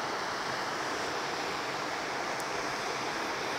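A waterfall in Meghalaya's Jaintia Hills, near Krang Suri, roars as a steady, broadband rush of falling water, continuous and even, heard from a moderate distance with no other sounds.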